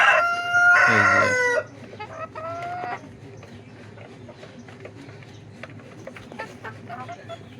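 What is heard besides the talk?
silkie chickens clucking and crowing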